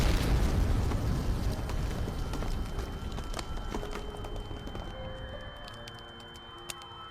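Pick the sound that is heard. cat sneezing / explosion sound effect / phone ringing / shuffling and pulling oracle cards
explosion sound effect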